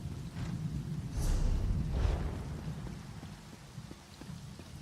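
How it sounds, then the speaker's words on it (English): Steady rain falls in the outdoor garden of the video game Elder Scrolls Online, a soft continuous patter with a low rumble swelling midway and scattered light drops afterward. "And it's still the same weather outside. Nice refreshing rain."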